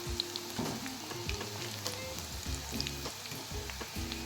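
Soybeans frying crisply in hot oil, a steady soft sizzle with dense crackling pops and faint stirring clinks, heard up close with no talk.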